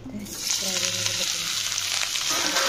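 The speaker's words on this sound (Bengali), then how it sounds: "তো এই সয়াবিনগুলো আমি এখন একটু লাল লাল করে ভেজে নেবো" Soybean chunks fry in oil in a wok, a close, strong sizzle that swells after a quiet start and continues steadily, with a voice speaking briefly over it.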